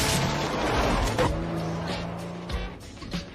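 A car pulls away in the action film The Transporter, its engine revving with a brief tire skid up close, then settling into a steadier hum that fades over a few seconds with faint thuds.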